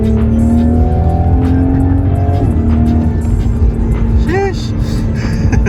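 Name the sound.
Toyota GR Supra car driving and accelerating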